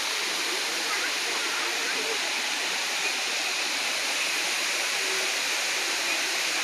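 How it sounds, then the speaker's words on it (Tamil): Kiliyur Falls in Yercaud, a waterfall roaring as a steady, loud, unbroken rush of falling water with no pauses, filling the whole scene. "ஒரு வழியாக ஃபால்ஸை பார்த்தாச்சு, அருவி கண்ணுக்கு தெரிஞ்சிச்சு"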